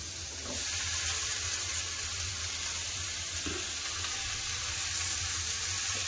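Malabar spinach, pumpkin and spices sautéing in a pan, a steady soft sizzle running throughout with a few faint stirring scrapes, no one talking.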